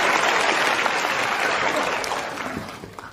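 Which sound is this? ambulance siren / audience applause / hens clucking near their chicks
audience applause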